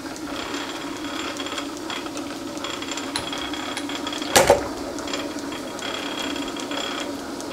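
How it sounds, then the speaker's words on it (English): A metal lathe runs in back gear while cutting a thread, giving a steady low mechanical drone with faint ticking and a brief sharp clatter about midway. "Got the lathe in back gear."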